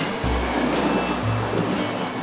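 Waves and churned water from a sailing boat under way, a steady rushing wash with a low rumble and surges of surf, close and continuous throughout.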